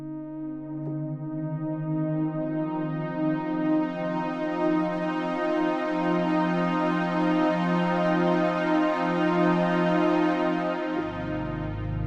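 A software synthesizer patch from the Unify library plays sustained, buzzy harmonic chords with a little pitch movement, changing notes once midway and dropping to a low bass note near the end, with no talking.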